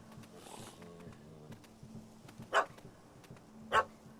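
A dog barks in The Witcher 3 video game, two sharp, separate barks a little over a second apart, fairly close, over quiet ambient game sound and a faint musical hum.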